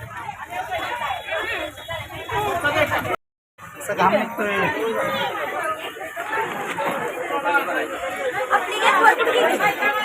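Dense crowd chatter at Shikhar Shingnapur temple, many voices talking at once close by in a continuous babble with a brief cut near the middle.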